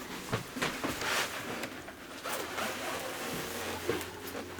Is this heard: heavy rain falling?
no